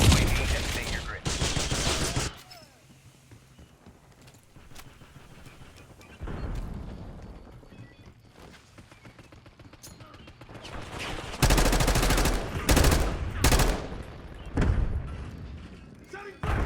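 Gunfire in Call of Duty: Black Ops 6, loud bursts of automatic fire in two clusters separated by quieter stretches of battlefield ambience, with game voice callouts mixed in.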